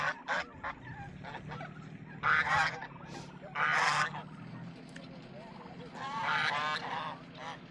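Guinea fowl kept inside a fenced pasture enclosure call in repeated loud, harsh honking bursts outdoors, with near calls separated by short pauses and a low background hum throughout.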